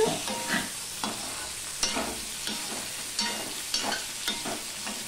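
Tomato is stirred into a frying pan with rhythmic scraping strokes every second or so, over a continuous sizzle from the pan.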